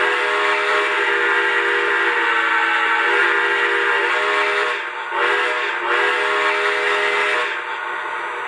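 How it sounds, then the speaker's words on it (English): A Lionel Legacy model train whistle on a Milwaukee Road S3 Northern steam locomotive blows a loud, sustained chime, with brief dips near the middle before it carries on, with no voices. "So here's the first whistle, and my favorite of them is this first whistle."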